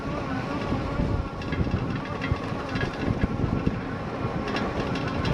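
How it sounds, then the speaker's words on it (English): Plastic fender on a Lectric XP 2.0 folding ebike rattling constantly as the bike rolls over rough ground near a beach, a dense, jittery clatter mixed with steady wind rush from start to finish. "you hear that fender going kind of crazy though"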